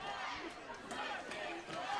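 Fans at a summer-league baseball game in Arcata shout and chatter from the stands, a faint, diffuse crowd murmur with scattered calls and voices mixed together.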